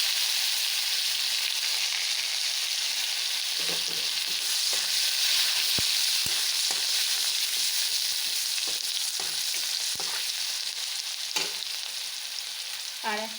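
Onion and garlic sauteing in oil for a potato and fish curry, a steady close hiss of frying with scattered spatula scrapes and stirring clicks throughout.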